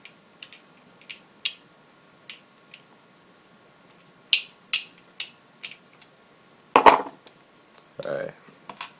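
A screw is backed out of an Xbox 360 controller case with a small screwdriver, giving a run of faint, sparse ticks and clicks at close range, with a couple of louder plastic knocks near the end.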